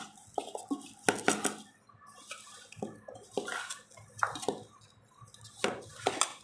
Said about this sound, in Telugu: ఒకసారి ఇలా ముక్కలకు పట్టేలా కలుపుకోవాలి.